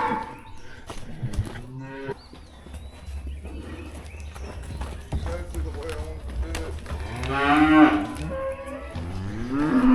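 Calves and cattle in a pen during fall pregnancy checking, including a Hereford cow, moo and low repeatedly, with loud bellows near the end and a man calling and herding them between the calls.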